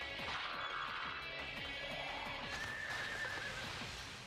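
A horse enemy in the video game Devil Survivor 2 lets out a loud neigh amid game sound effects, with thudding impacts and clip-clop hoofbeats under a dense, busy mix.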